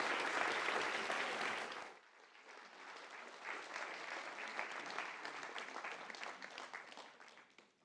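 A conference audience breaks into applause, loud and dense for the first two seconds, then drops to a thinner, steady patter of clapping that fades out toward the end.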